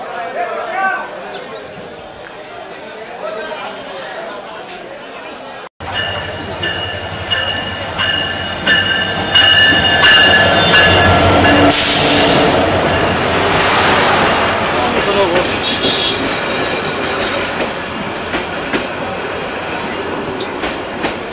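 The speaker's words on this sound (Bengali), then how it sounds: "ফাইনালি আমাদের ট্রেন চলে যাচ্ছে" An intercity train rolls through a railway station on the Sonatala–Gaibandha line in Bangladesh, with a loud, sustained rumble and rhythmic wheel clatter, occasional metallic squeals, and distant crowd voices.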